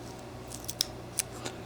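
A knife cuts into a small butternut wood block during whittling, making a few sharp, quiet snicks and clicks close by, with two louder cuts among them.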